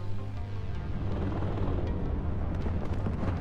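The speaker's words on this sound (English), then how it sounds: "The artillery is a bit strong." Artillery pounds away in the real-time war game WARNO, a continuous heavy rumble of explosions and booms rolling close and loud with no pauses.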